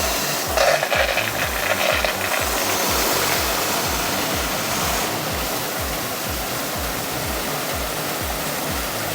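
Continuous rushing water forced through a pipe by a motor pump as pressure builds, a loud steady roar with a rhythmic mechanical pulsing from the pump underneath.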